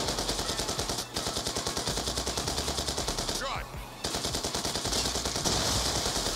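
Rapid automatic gunfire from the Dragon fire weapon in Black Ops 2, a steady loud burst of shots with two brief pauses, sounding close and continuous throughout.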